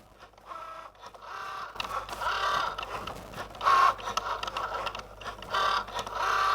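Cricut Joy machine cutting pantry labels, giving a steady mechanical whir with repeated rising and falling scraping strokes as the blade moves, close and moderately loud, with no voices.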